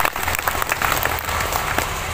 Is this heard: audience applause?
yes